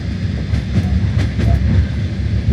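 A nostalgic passenger train at Bucharest North station gives a steady low rumble with rolling rail noise, loud and continuous throughout.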